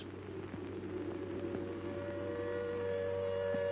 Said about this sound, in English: Then the air raid siren wails again